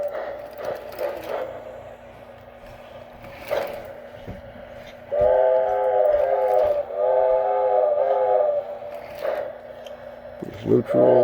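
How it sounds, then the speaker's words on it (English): A K-Line O gauge model steam locomotive, a New York Central Hudson, sounds its electronic whistle in sustained multi-tone blasts that start and stop, mixed with clicks and a low hum while a person talks at times. "I'm not touching the whistle. It's blowing all by itself."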